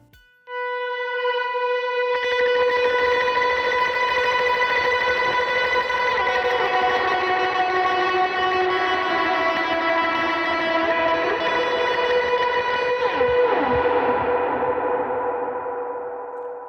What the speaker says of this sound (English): that part's gonna sound like this. Swell in to that first note.